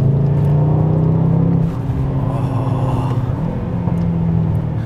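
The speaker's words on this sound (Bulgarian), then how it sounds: "се смесват по интересен начин звуците на V8 двигателя, тези, които изкуствено се генерират, и звуците на електромотора" The V8 engine of a Mercedes-AMG GT 63 S E Performance hybrid hums and drones steadily alongside its electric motor. A strong low tone drops slightly partway through, over a continuous near rumble.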